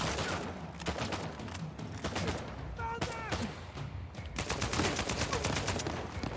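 Gunfire in the video game Uncharted 4, rapid bursts of automatic fire and scattered single shots echoing over a busy battle mix, with short spoken exclamations in between.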